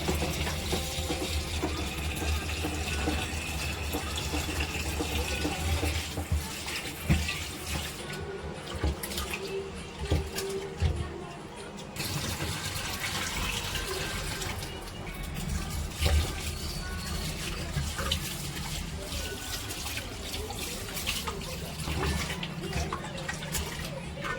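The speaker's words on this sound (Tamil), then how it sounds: "ஃபர்ஸ்ட் வந்து அரிசி கழுவிக்கலாம்" Rice rinsed in a pot under a running kitchen tap, a steady loud water stream with sloshing and grains swirled by hand throughout, no speech.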